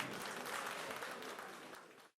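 Brief, faint audience applause for the Tatete couple, a doctor and his wife, at a medical event, steady clapping that cuts off abruptly after about two seconds.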